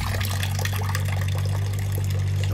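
Water flows out of a drainage line on a wet building site over a drained swamp, a steady close pouring and trickling with a constant low hum underneath.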